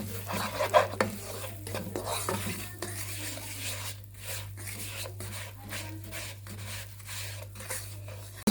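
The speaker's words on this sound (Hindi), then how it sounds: "इसे डालकर हमें अच्छी तरह से भून लेना है" Semolina roasting in a tablespoon of ghee in a pan, stirred with a spoon that scrapes the metal in steady, uneven strokes under a soft sizzle and a constant low hum, close and moderately quiet, with no talk.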